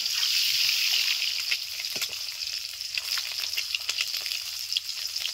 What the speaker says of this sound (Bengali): মিডিয়াম আছে আস্তে আস্তে হালকা লালচে করে ডিমগুলোকে ভেজে নেব।